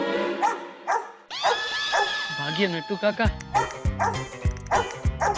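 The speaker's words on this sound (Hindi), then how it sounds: "ये कुत्ता तो कितना भौंक रहा है" A dog barks repeatedly in sharp, loud bursts, with some whimpering yips mixed in, while a person speaks over part of it.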